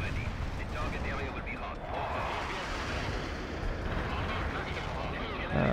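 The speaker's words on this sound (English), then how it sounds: "There's lots of preemptive cluster bombs here" Cluster bomb explosions rumble through a battle in the real-time strategy game World in Conflict, a continuous heavy barrage of low booms and crackling blasts, loud and unbroken, with someone talking over it.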